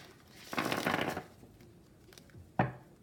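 Tarot cards are shuffled by hand, first a riffling burst of about a second, then quiet rustling and one sharp flick of the deck near the end, close and soft with no talking.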